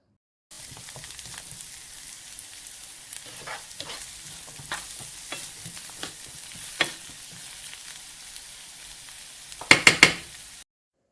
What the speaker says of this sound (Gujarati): પછી તેલને મીડિયમ ગરમ થવા દેશું અને આ રીતે વ્યવસ્થિત રીતે ગાંઠિયા પાડી લેશું.